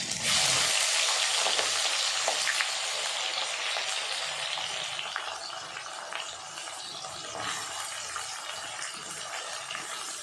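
Chopped onions and green chillies fry in a pan in hot oil, giving a loud, continuous hiss and sizzle that stays steady and close throughout, with no talking.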